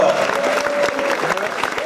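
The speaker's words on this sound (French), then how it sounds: "Eric, notamment, que vous pouvez applaudir, Eric" Applause from an audience at a 2014 awards-style event, a continuous loud wash of clapping with a sustained tone beneath and faint voices mixed in.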